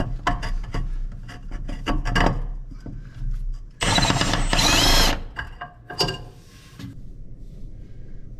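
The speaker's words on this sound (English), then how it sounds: "I'll drill a hole through it" A power drill bores a hole through a spring perch on a 1976 Cadillac Eldorado during a rear air suspension install: a loud, rough whining burst of about a second, with clanks and tool handling before and after.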